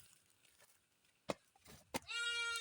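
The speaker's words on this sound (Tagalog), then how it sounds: "Ayun yung isang kambing na yan" A goat bleats once near the end, a wavering harmonic cry after two sharp knocks, on a rural farm with irrigation in Pangasinan province, Philippines, over a quiet outdoor background.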